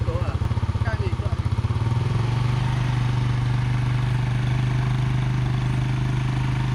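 An ATV engine running on Redang Island, first a throbbing idle with a pulsing beat, then revving up to a steady, loud drone that holds close by, with people chatting faintly underneath.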